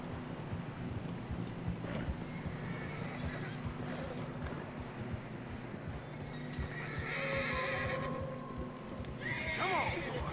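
Horses in Red Dead Redemption 2 trudge through deep fresh snow, neighing and whinnying with plodding hoofbeats under steady wind, while voices talk over the scene.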